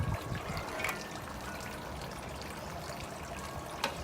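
Liquid poured into a jambalaya pot of Louisiana-style chicken and sausage, a steady close splashing trickle lasting a few seconds with a couple of brief clinks.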